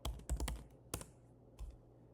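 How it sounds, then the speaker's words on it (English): A web address typed on a computer keyboard: a short run of close, quiet key clicks in a few quick bursts, with no talking. "So I'm going to open up a browser and I'm going to type"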